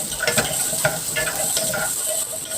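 Garlic sautéing in a pan before shrimp paste (alamang) goes in, a steady close sizzle with repeated stirring scrapes and utensil clinks throughout.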